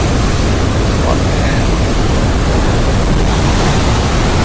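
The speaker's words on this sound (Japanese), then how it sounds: "うわ、水しぶきがすごい。" Heavy ocean surf crashing and throwing spray on the coast at Choshi, Chiba, a loud, continuous broadband roar of churning water with wind buffeting the microphone throughout.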